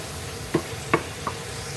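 Chicken afritada cooks in a sizzling pan of tomato sauce with tomatoes as the chicken goes in; a soft, steady sizzle sits under three distinct knocks of a utensil against the pan.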